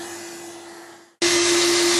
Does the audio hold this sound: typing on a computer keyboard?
no